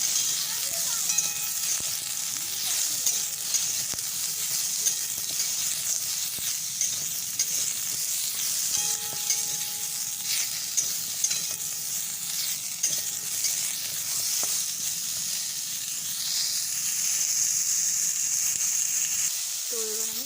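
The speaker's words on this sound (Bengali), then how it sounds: "আমটা দিয়ে সুন্দর করে একটু ভাজা ভাজা করে" Mango pieces frying in mustard oil in a wok for a mango chutney pickle, a steady close sizzle with stirring scrapes running throughout.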